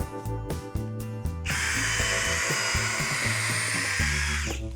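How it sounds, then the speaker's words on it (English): A DeWalt multi-head drill driver spins up in short bursts, then bores holes in one long steady high whine with dense grinding texture. It stays loud and close throughout and stops abruptly at the end. "And go ahead, drill my holes."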